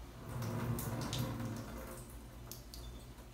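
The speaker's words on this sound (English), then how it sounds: "So let's go ahead and rinse it out." Distilled water rinsing the roots of a Spathoglottis plicata orchid being repotted for semi-hydroponics, with a quiet continuous trickle and splashing and a few soft drips.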